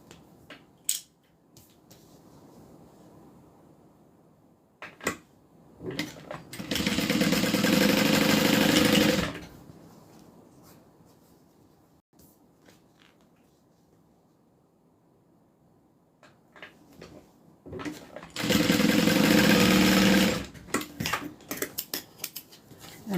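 Sewing machine stitching a top band onto a bag gusset: two separate steady mechanical whirring bursts of about three seconds each, with quiet handling sounds and soft clicks between them.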